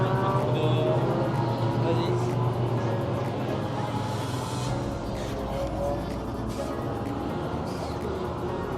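Maserati race car at a GT World Challenge track, a continuous engine roar and drone heard from trackside under excited nearby talk and crowd noise.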